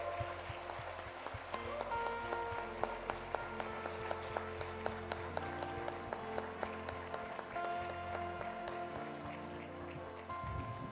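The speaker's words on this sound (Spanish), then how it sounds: "Si le va a dar un aplauso al Señor, hágalo para el Señor" A church congregation applauds in a sustained wash of many hands clapping, moderately distant, with musical tones and faint voices underneath.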